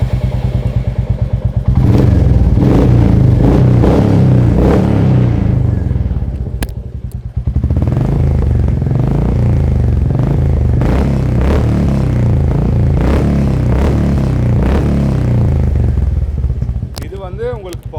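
A Royal Enfield motorcycle, a Reborn or Meteor, fitted with a performance silencer, loud and close, with a thumping idle, repeated rev blips and a deep throbbing exhaust note, and faint voices under it.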